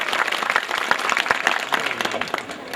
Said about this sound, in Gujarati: આપણે આ દલીલની જોરદાર તાળીઓથી વધાવીએ